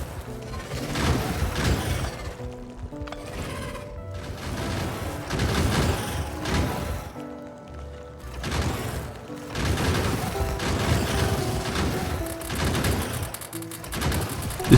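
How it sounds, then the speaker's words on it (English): Defensive turrets in Factorio firing on biters, a dense continuous rattle of rapid gunfire with booming bursts and mechanical clatter, loud and steady throughout with no talk. "So their job is to keep the biters off us while we destroy the nests ourselves."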